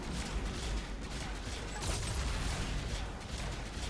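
Constant sci-fi weapon fire and battle noise rattle against an Atlas mech in Mass Effect 3, a dense, unbroken barrage that holds near and loud from start to finish.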